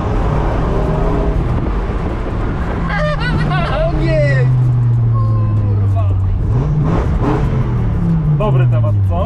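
A Dodge Viper engine revs and pulls hard in acceleration, a loud continuous drone with rising and falling pitch sweeps, while people talk and exclaim over it.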